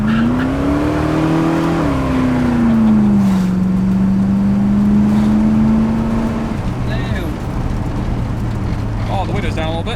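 Engine of a 1966 Ford Mustang revving while driving, a loud sustained drone that climbs, falls and then holds steady before easing off, heard from inside the car with a person speaking over it.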